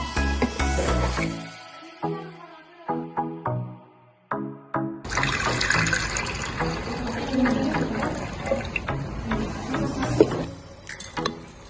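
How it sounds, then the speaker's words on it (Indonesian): Stirring a plating solution dissolved in distilled water gives liquid swishing and clinks, at first in short bursts with gaps and then as a steady, close churning that continues to the end. "Kemudian diaduk searah jarum jam."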